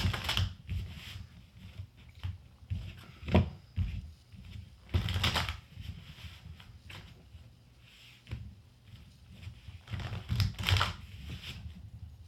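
Tarot cards being shuffled by hand in repeated bursts of rustling, riffling card noise, fairly close and steady over low background hum, with no talking.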